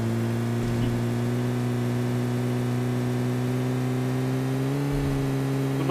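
A vehicle engine drones steadily in a battle royale video game, a sustained mid-pitched whir holding one tone that shifts slightly near the end, with no talk over it.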